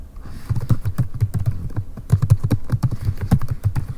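A name typed on a computer keyboard, close-up rapid key clicks in two quick bursts separated by a short pause, loud and dry with no talking over them.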